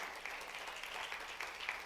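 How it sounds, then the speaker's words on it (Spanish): A church congregation applauds together in a sustained burst of clapping lasting a couple of seconds, moderately loud and steady, with no voices standing out above it. "Si le va a dar un aplauso al Señor, déselo bien fuerte."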